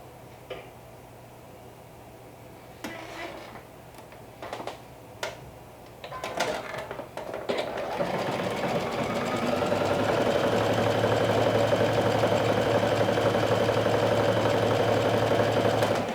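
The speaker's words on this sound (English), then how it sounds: "I'm going to sew just a few inches at the bottom so I can hem" A sewing machine stitches a few inches of a skirt side seam. Scattered clicks and handling taps come first, then the motor starts a steady, loud, continuous whir that runs to the end.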